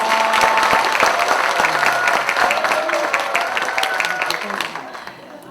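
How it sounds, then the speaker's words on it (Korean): At a joint campaign rally for deputy-leader candidates in a 2019 Justice Party election in Incheon, a crowd greets a candidate with loud applause and cheering, sharp claps over a vocal roar that gradually fades toward the end. "열렬한 환호 감사합니다."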